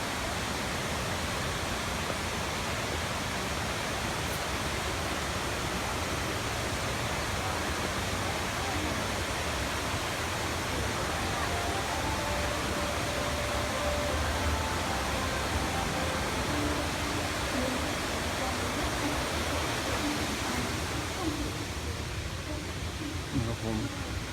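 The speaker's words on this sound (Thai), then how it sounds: "น้ำตก ของหมู่บ้านกัดกัด" Waterfall at Cat Cat village in Sapa, a constant dense roar of cascading water holding steady and close throughout, with no break.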